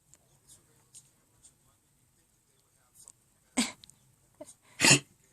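A dog named Smurf gives a couple of short, sharp sneezes, the strongest two near the end, after a stretch of faint snuffling in a quiet room.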